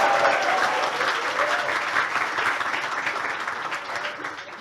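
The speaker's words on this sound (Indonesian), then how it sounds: "Kasih tepuk tangan dong." Dense applause from a crowd at a talk, steady and loud throughout, tapering slightly toward the end.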